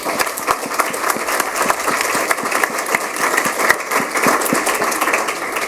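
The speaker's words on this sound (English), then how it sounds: "So I'd just like to give you all a round of applause." Audience at a New Orleans urban water series event applauding, many hands clapping in a steady crackling stream with sharper individual claps standing out, sustained throughout without speech.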